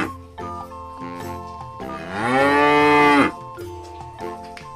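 A cow lets out one long, loud moo that swells and bends in pitch, with quieter farm sounds before and after.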